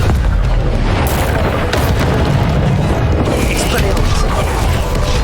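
The Confringo fire spell explodes in Hogwarts Legacy, giving loud, dense booming blasts and rumbling bursts that fill the whole stretch with heavy, distorted impact noise.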